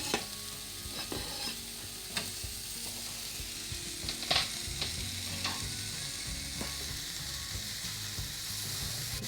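Finely chopped methi leaves fry in oil with onion in a pan, making a soft, continuous sizzle broken by scattered scraping and stirring clicks, one a little louder near the middle. It is quiet and close, and no one speaks.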